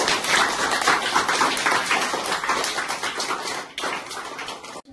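Schoolchildren clapping together at a school supplies handout, a dense continuous patter of many hands at close range that breaks off sharply at the end.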